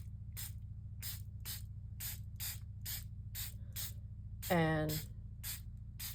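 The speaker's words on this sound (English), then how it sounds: "So then I'm going to come in with this little sprayer." A small hand spray bottle mists onto a mixed media masterboard in a rapid train of about eleven short, evenly spaced hissing puffs, with a brief spoken word partway through over a low steady hum.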